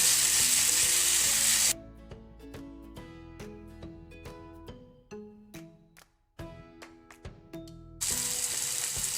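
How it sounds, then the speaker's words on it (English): Mutton frying with masalas in a pan while being stirred, a steady sizzle at the start and end with a quieter stretch of scraping, clinking stirring in between. "Keep mixing it till all the masalas are blended with the mutton."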